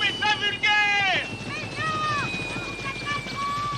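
A helicopter in flight in a 1980 film scene, its steady rotor drone close and loud, with a voice speaking over it.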